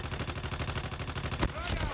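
A sentry gun in Call of Duty Mobile fires a rapid, steady burst of automatic shots, loud and continuous, with other game sounds under it.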